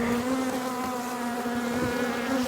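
Honey bees buzzing at an open beehive during a honey harvest, a dense, steady drone from many insects close by and continuous throughout.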